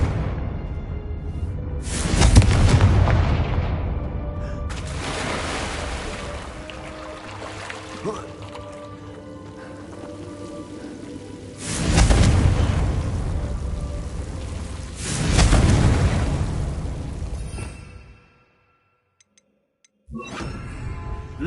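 Explosive bursts from the Confringo fire spell in Hogwarts Legacy on PS5, several loud broadband blasts with long decaying tails spaced a few seconds apart, followed by a brief silence.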